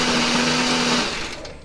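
A kitchen blender grinds a spice paste of candlenut, shallot, garlic, turmeric, coriander and pepper with added water or oil, a loud steady whir that runs close and continuous, easing slightly toward the end.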